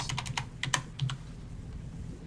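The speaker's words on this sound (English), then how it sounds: "If you press the period on your keyboard," Computer keyboard keys tapped while playing the online game Rift, a quick run of close, crisp clicks followed by a few more isolated presses, then quieter room tone.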